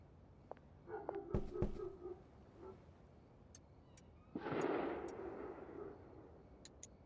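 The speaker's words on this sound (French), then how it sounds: "C'est quoi qui fait ce bruit là? Comme des bruits d'armes à feu." Distant gunfire in the video game Schedule 1: a few sharp cracks, then a louder burst of shots, heard faint against a quiet game ambience with small ticking sounds.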